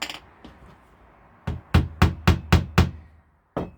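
Hammer blows drive a nail into wood while building a guitar stand with basic tools, six sharp strikes in a steady rhythm, with a couple of lighter taps before and one more hit after a pause. Close and loud, no talking.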